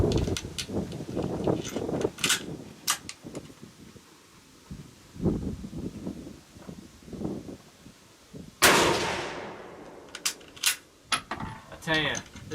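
Sharp rifle shots crack out at irregular intervals from a Mosin Nagant or a Remington 597 fitted with an Archangel stock. One blast is especially loud and close and rings out after firing, with handling clicks between the shots.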